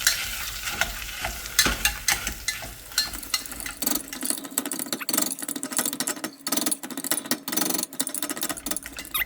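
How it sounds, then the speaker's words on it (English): Cooked potatoes being smashed in a frying pan, with continuous scraping, stirring and sizzling clatter throughout, fairly close and busy, with no talking. "I'm going to add my potatoes. These one already cooked, and I'm going to smash them."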